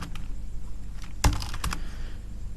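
Typing on a computer keyboard: a brief cluster of a few quiet, close key clicks over a low background hum.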